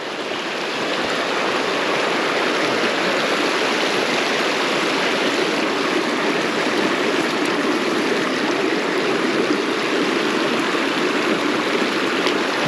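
A small creek flows steadily, its broad rushing and babbling water noise continuous and close for the whole stretch, with no voices over it.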